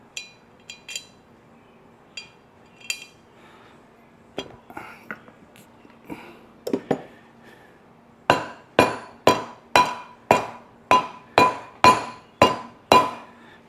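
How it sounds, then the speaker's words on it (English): Gentle hammer taps seat a brake rotor on the hub of a 1988 Porsche 911, starting as scattered light metallic clinks, then settling into a steady run of about a dozen sharp ringing taps, close and clear with no talk. "Gentle taps after the bolts are in to kind of seat it and orientate."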